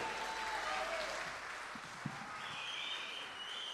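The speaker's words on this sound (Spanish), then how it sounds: "con este aplauso despedimos a estos grandes artistas" Applause from an audience at an outdoor town festival in Cabrero, seeing off a group of performers; a soft, distant wash of clapping under faint background sound, with a brief whistle or tone rising near the end.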